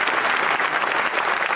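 The British parliament gives a standing ovation, a dense, loud, sustained wave of clapping from a large chamber crowd, steady throughout.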